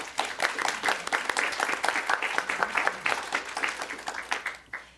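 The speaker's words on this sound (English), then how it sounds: "A round of applause." An audience at a museum symposium applauds, with brisk, fairly dense clapping from a moderate-sized group that stays steady for several seconds before tapering off.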